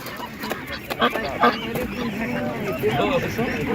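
Ducks quack and honk at an animal market, their calls repeating over steady crowd noise and nearby voices, moderately close and fairly loud.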